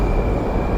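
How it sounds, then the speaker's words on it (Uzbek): Metro train pulling out of the final station, a brief loud rumble with a steady high whine over low-frequency roar. "Bu yerda men boya kelgan metro ketyapti."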